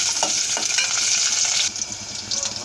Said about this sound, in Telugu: పచ్చిమిరపకాయలు అల్లం ముక్కలు వేగాయండి